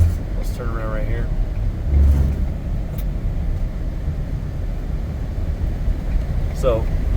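A 2015 AWD Ford Explorer Police Interceptor with the 3.7L engine turning around on a highway, a steady low engine and road rumble with someone speaking briefly over it.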